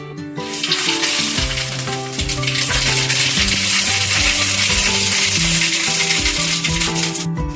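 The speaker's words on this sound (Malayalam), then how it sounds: "അപ്പൊ കടുക് പൊട്ടി." Mustard seeds crackle and pop in hot oil in a pan for a Kerala-style chicken perattu, a loud dense sizzle with rapid overlapping pops that builds and holds steady.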